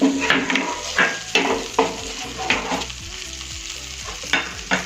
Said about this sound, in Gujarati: હવે આપણે મકાઈને આ રીતે મસાલા સાથે ફેરવી દઈશું.